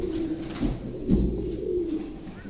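Pigeons coo in low, throaty, rolling murmurs that run continuously and close by at a pigeon market, with faint rustling in the background.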